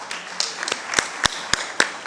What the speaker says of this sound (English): a resounding applause for Latifa